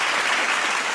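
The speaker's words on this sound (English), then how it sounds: "Give myself a clap." Dense, steady clapping from an audience in a room, a continuous wash of many hands at even loudness without pause.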